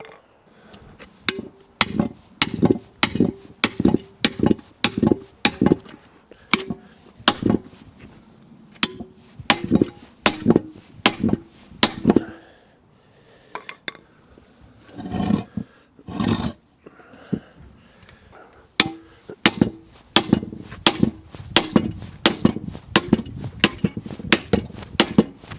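Sharp metallic hammer blows strike a single flux core MIG spot weld clamped in a vise, coming in fast regular runs of loud ringing knocks, then a pause with scraping, then another rapid series.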